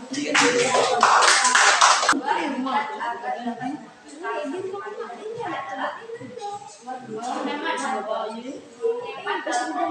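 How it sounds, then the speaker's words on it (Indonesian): A classroom of students claps together in a loud, dense burst for about two seconds, then the clapping stops and a teacher and children talk. "Kita lagi kasih tepuk tangan."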